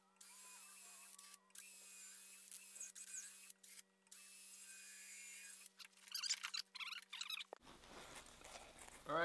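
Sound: drilling wood with a 5/8 Forstner bit

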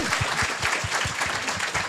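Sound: audience applause

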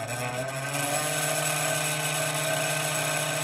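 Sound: oxyhydrogen spray coating torch flame with welding tip

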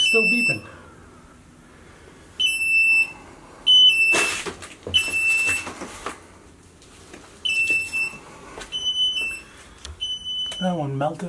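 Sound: smoke alarm beeping in fire-damaged house

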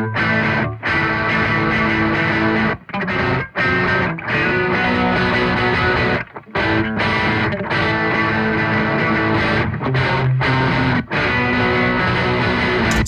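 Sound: electric guitar through serial distortion pedals, Laney Ironheart DSP

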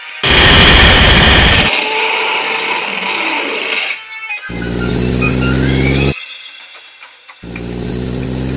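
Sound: gunfire after order to open fire

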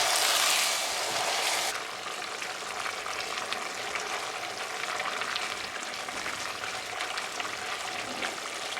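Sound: risotto simmering in pan, water added by ladle

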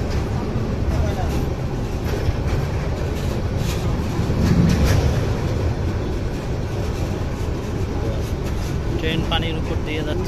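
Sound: Lalmoni Express train running over the river

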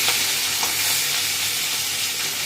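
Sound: fish frying in a pan

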